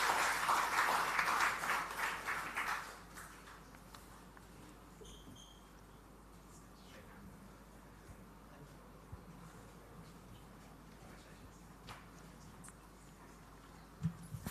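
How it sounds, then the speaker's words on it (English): Audience applause at a startup investor demo day as a founder joins the stage: a brief burst of clapping that fades after about three seconds into a quiet room. "round of applause even as the founder joins us on stage"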